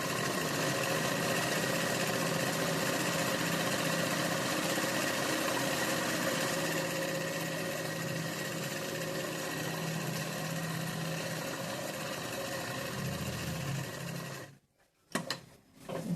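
A sewing machine runs continuously, stitching the edge of a chudi top with a steady, even mechanical whir, then stops abruptly near the end, leaving a brief silence and a few soft handling clicks.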